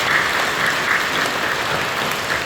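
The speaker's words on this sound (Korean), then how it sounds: "박수를 격려해 주시죠" Steady applause from a church congregation during a worship service, a continuous even patter of many hands at moderate loudness.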